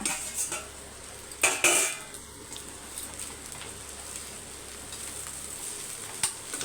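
Egg vegetable fried rice mixed in a pan, with quiet scraping and clinks of a spoon against metal over a faint sizzle, a couple of sharper knocks near the start.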